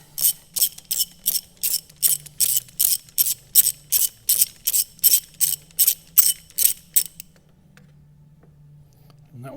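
A socket ratchet clicks in a fast, even run of about eighteen loud, close strokes while undoing a spark plug on a Ford Fiesta engine. A steady low hum sits underneath, and the clicking stops abruptly, leaving quiet.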